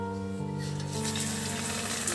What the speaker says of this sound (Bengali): দেখুন তেল এবার তেতে গেছে। এবার এর মধ্যে কিভাবে আমি ভাজি আপনারা দেখুন।